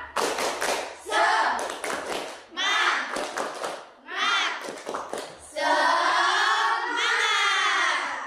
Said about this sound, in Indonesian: bagaimana kalau kita melakukan tepuk semangat dulu, ya? Tepuk semangat.